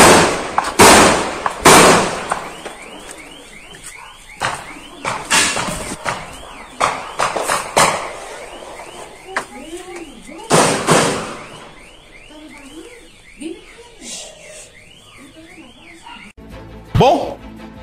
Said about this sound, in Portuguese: Olha o tiro, vamos botar aqui.